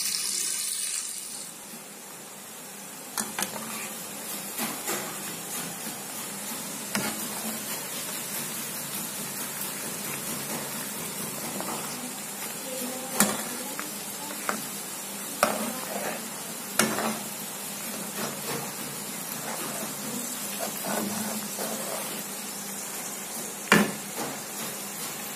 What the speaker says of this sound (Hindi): तो बस अब हम इसको पकाते रहेंगे और इसको अंदर से एलोवेरा का वजूद ख़त्म कर लेंगे